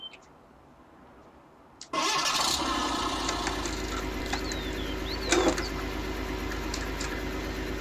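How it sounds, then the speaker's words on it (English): A Ransomes combine harvester engine cranks and fires up at about two seconds, then settles into a loud, steady running drone with no voices over it. "We have now got a Ransom's combine."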